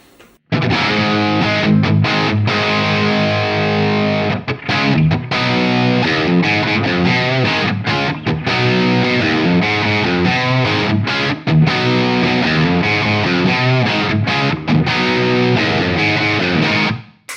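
Heavily distorted electric guitar through a Wizard MTL 100 clone amp on the rhythm channel with boost on chugs out a crunchy, driven rhythm riff with brief stops between chords, loud and continuous with no voices.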